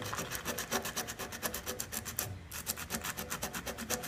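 Steady rasping of a file working around pinholes on a Honda CBR 600 F3 motorcycle fuel tank, a fast regular back-and-forth rhythm of strokes, close and fairly loud, alone with no talk.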